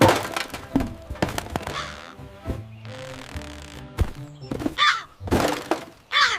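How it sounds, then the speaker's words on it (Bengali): A crow caws several times at close range, mixed with sharp cracks and dull thuds. "কাক।"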